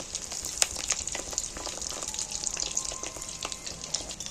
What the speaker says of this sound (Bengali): চপের মতো এইগুলোকে একটু ভেজে নেব গোল গোল করে। আমি একটা একটা করে উল্টিয়ে দিচ্ছি।